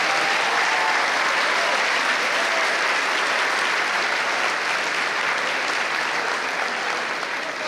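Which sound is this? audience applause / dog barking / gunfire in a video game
audience applause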